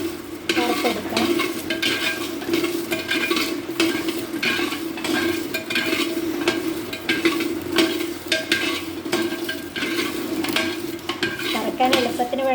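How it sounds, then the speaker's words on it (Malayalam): Jackfruit seeds are stirred and dry-roasted in a clay pot, giving a continuous scraping, rattling sizzle with frequent clinks of the stirring utensil against the pot, steady and close throughout. "ഞാനൊരു മൺകലം വെച്ച് ചക്കക്കുരു ഇതിൽ ചീനിട്ട് ഇളക്കി കൊടുക്കണം"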